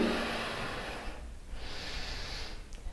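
Breath during a vinyasa flow yoga exercise: a long, airy exhale that fades, then softer breathing follows, close to the microphone and without speech.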